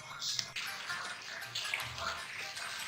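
Qeema kachoris frying in oil on low heat make a steady, soft, continuous sizzle and bubbling hiss, close up and fairly quiet.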